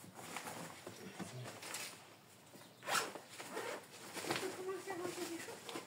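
A zipper is pulled open on a car survival kit bag, a close scratchy rasp with a sharper pull near the middle, over low background talk.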